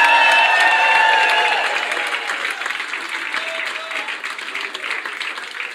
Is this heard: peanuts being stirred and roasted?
no